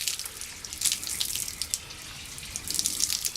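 Green, algae-laden pond water running out of wrung microfiber material in a steady splashing trickle, with bright spattering pulses, close and moderately loud.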